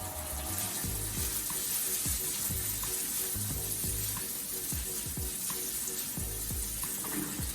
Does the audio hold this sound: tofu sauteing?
yes